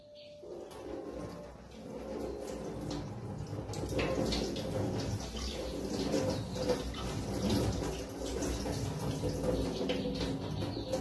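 Mung bean sprouts being rinsed under running water at home, a steady splashing wash that fills the clip with continuous broadband water noise, fairly close and without talk.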